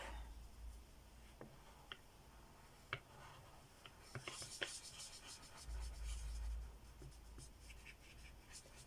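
Felt pen or pencil scratching across a paper savings envelope while colouring it in, giving faint, close scribbling strokes with a few sharp ticks, quiet and intermittent throughout.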